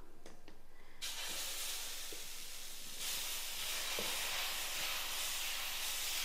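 Wheat dosa batter hits a hot pan with a sudden loud sizzle that swells into a continuous steamy hiss, growing stronger partway through and staying close and steady with no talking.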